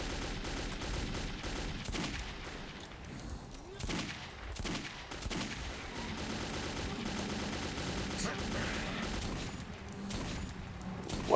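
Dense gunfire from Metro 2033 runs continuously beneath a busy mix of combat sounds, with scattered sharper shots and no clear pauses.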